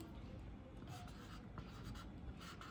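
Steady scratchy marker or chalk strokes writing a word on a classroom board, continuous and fairly close over faint room noise.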